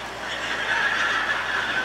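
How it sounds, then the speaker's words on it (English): A horse whinnies in a single continuous, fairly loud call lasting under two seconds, with no talking over it. "The world's first stripeless zebra. It's a horse. It's a stinking horse then."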